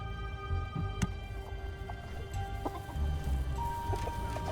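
Chickens cluck in Minecraft Dungeons, scattered short game clucks over a steady layer of game music and ambience, with no voices.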